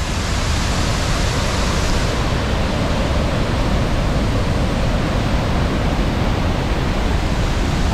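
Thundering waterfall at Salto de La Llovizna in Venezuela, heard from a close viewpoint in the spray: a loud, steady, broadband roar that fills the whole stretch without a break.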